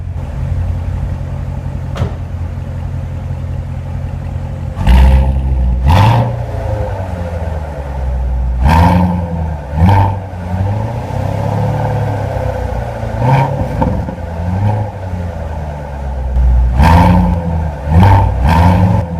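Chevrolet Corvette Stingray C7 convertible with a 6.2-liter direct-injection V8 starts with a push button, then settles into a rumbling idle broken by several sharp, loud revs that flare and fall back, recorded close.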